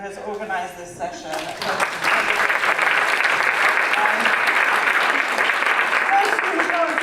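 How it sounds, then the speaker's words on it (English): A conference audience breaks into sustained applause for session organiser Kate, beginning with a scattered clap or two and swelling after a couple of seconds into dense, even clapping that continues steadily. "we should just give a round of applause to Kate"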